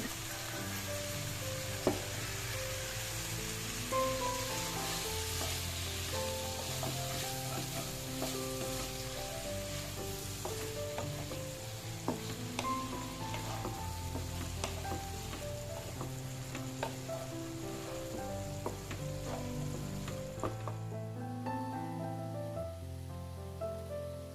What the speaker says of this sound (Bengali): এপাশে আমি রুই মাছ রান্না করতেছি